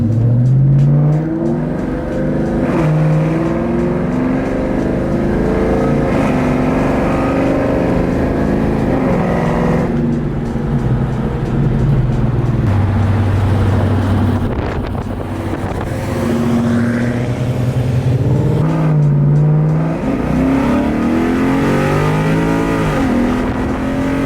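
A Coyote V8-swapped NewEdge Ford Mustang with an automatic transmission rumbles close by, its engine note rising and falling through repeated revs and shifts as wind buffets the microphone.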